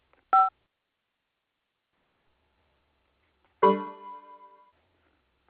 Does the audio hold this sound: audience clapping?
no